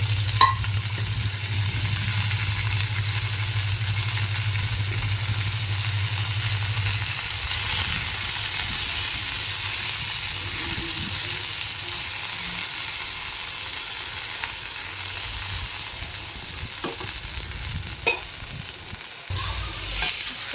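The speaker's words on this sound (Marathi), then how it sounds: "तेल छान तापून दिल्यानंतर जी गवार आपण स्वच्छ धुवून घेतलेली आहे तर ती याच्यामध्ये परतून घ्यायची आहे आपल्याला" Washed cluster beans fry in hot oil, producing a constant close sizzle and hiss with occasional stirring scrapes, alongside a low hum that stops partway through; nobody speaks.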